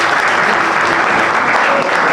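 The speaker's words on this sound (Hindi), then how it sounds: "तो छोटी बहन के लिए भी जोरदार तालियां होगा।" Loud, dense applause from an audience at a school award function in Fatehabad honouring students who won government jobs, a steady wash of many hands clapping without pause for about two seconds.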